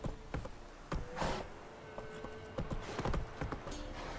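Horse hooves clip-clopping at a steady ride in The Witcher 3, several crisp hoof strikes spaced irregularly over low background ambience, fairly close and moderately loud.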